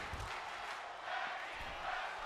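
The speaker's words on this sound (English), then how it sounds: "Hear the crowd chant tag team wrestling." A crowd chants at a tag team wrestling show, the HWF Fall Brawl pre-show, as a steady, fairly faint wash of massed voices that runs without a break.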